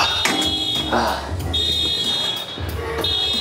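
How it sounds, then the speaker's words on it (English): A gym lunk alarm sounds during a leg workout, a loud high-pitched buzzer tone that sounds in repeated bursts under voices talking. "Then set the lunk alarm off."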